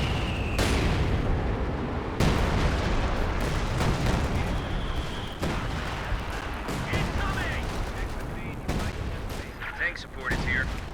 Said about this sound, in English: I think now is the real artillery.